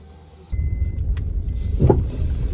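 A car driving along a road, with a steady low engine and road rumble throughout that swells slightly near the end, close and continuous with no talk.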